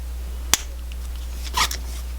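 Wire cutters snip jewelry wire at an angle for a snake pendant's tail, making one crisp, sharp click at close range, followed by a softer rustle over a steady low hum.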